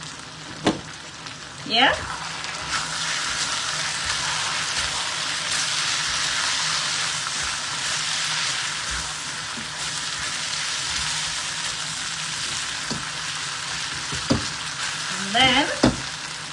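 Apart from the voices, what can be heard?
pork and vegetables simmering and sizzling in a pan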